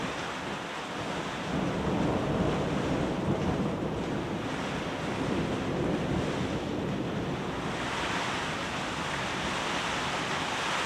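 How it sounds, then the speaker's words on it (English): A massive flooded torrent formed where thin braids of a river join together in heavy rain and strong wind in New Zealand, a loud, steady broadband roar filling the whole clip without pause, heard from a hut nearby. "They're all joining up together and creating a massive torrent."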